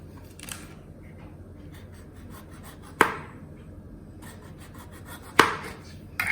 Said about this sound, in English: In the meantime, we'll chop tomatoes.